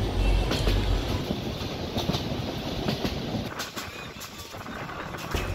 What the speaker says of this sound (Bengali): ট্রেন চলেছে তার নিজস্ব গতিতে, কখনো হুইসেল বাজিয়ে, আবার কখনো ঝিমঝিম শব্দে থেমে পড়ছে স্টেশনে, আবার ছুটছে।